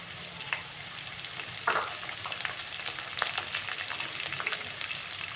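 Green chillies and curry leaves frying lightly in hot oil for coriander tomato rice, a continuous close crackling sizzle with occasional louder pops and stirring scrapes, no voices.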